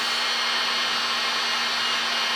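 A heat gun blows a steady, loud hum and airy rush while drying and shrinking Raychem heat shrink tubing on wiring under the dash of an F100 race truck, a constant close drone with no talking.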